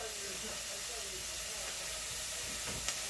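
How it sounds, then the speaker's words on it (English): Food sautéing in a pan gives off a steady, broadband sizzle and hiss that stays loud and even throughout, with a faint voice in the background and a brief clink near the end. "So we're going to saute this for 3 to 4 minutes."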